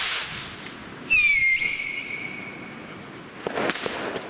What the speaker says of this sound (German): Im Hintergrund böllern jetzt ein paar andere Leute.